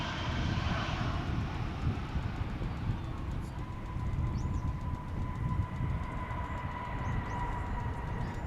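An American airliner arriving from Seattle at Dallas/Fort Worth Airport roars steadily in the distance, a broad continuous engine rumble with no talking.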